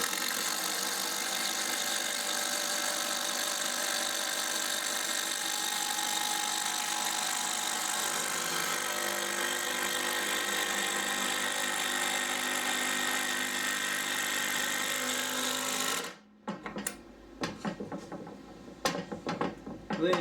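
A Makita DTD145 impact driver whines and hammers continuously as it drives a screw in and backs it out, loud and close for about sixteen seconds before stopping abruptly, followed by a few short knocks and handling noises.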